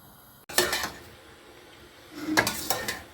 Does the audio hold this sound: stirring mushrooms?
yes